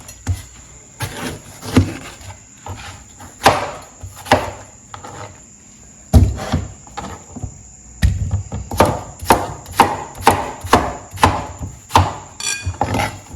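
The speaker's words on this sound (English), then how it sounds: "Let's go ahead and cut our vegetables into pieces." Knife chopping vegetables, including cucumber, into pieces for a health juice: sharp, close chops on a board, scattered at first and then quicker and steadier, with no talking.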